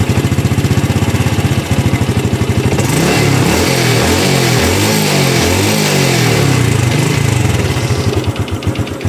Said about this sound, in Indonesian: kalian dengarkan sendiri suara mesinnya ya